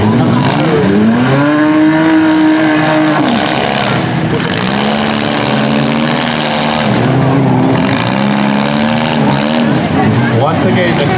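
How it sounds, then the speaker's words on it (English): Small cars ram each other at a mini demolition derby in Mount Forest, Ontario, while engines rev and whine loudly. Bursts of impact noise come through the constant roar, and a commentator talks over the action. "Once again, the cars have to continue to hit."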